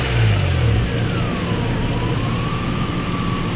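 A 1989 Nissan Maxima's 3.0-liter engine runs steadily nearby, with a brief rev at the start before it settles into an even hum.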